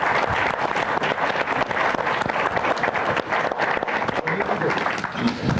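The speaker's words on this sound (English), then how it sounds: "Please, a round of applause for the great panel." An audience at a closing roundtable panel applauds steadily, a dense, close wash of many hands clapping that continues for several seconds without letting up.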